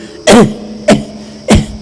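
Three sharp, dry coughs, close and loud, spaced roughly half a second apart.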